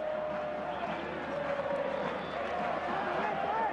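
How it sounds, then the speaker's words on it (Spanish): Tigre supporters cheering in a packed football stadium during a match against Boca Juniors, a steady, distant crowd roar with a whistle-like tone, under a commentator's voice. "Festejan los hinchas de Tigre."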